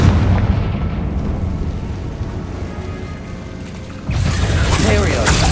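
A Confringo blasting spell goes off in Hogwarts Legacy as a loud, rumbling explosion. Roaring low noise sustains and then swells again in a second burst near the end, with mechanical clatter mixed in.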